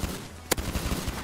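A single sharp gunshot cracks out in a GTA roleplay shootout in town, loud and abrupt, followed by a low rumbling game ambience with faint thuds.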